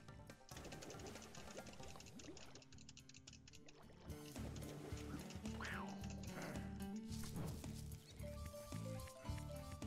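Turkeys in the video game Ty the Tasmanian Tiger let out quacking, squawking calls over busy game music and sound effects, with several gobble-like cries bunched in the middle, all faint.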